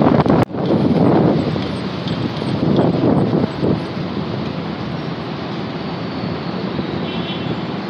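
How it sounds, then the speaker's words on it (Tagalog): Wind buffets the microphone outdoors near the Gateway Mall in Cubao, Quezon City, a steady broadband rush that is loudest at the start and then settles, with no talk. "Mahangin, pero okay lang."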